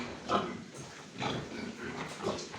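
Two-week-old piglets in a heated barn during winter frosts make repeated short grunts and squeals. They come in small bursts over a steady background hum, near and moderately loud, with no talking.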